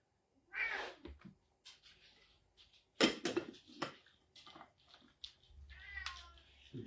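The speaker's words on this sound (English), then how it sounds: "My cat is angry because I'm talking and I'm not talking to him." A cat meows several times in short, insistent bursts, fairly close, with faint kitchen clatter in the background.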